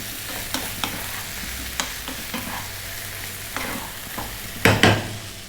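Fried potatoes with chopped cilantro being stirred in a pan, with scattered clinks of a spoon against the metal over a low steady sizzle, closing with a couple of louder scrapes.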